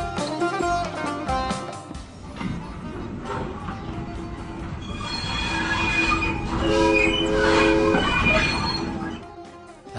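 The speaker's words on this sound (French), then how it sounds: "Nous partons en wagon couchette pour Shiraz." Train at an Iranian railway station, with steel wheels squealing and ringing over a rumbling, clattering carriage sound that swells toward the end; no talk.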